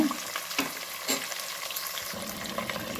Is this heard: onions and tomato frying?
yes